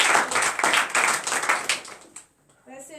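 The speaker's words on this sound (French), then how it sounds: "Donnez l'acclamation encore" Clapping and acclamation from a church congregation during a morning prayer service in Benin, rhythmic and fairly loud for about two seconds, then fading as a voice begins speaking.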